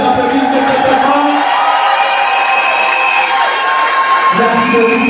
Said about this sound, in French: Est-ce qu'on peut encore les applaudissements très fort?